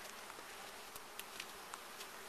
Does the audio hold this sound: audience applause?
no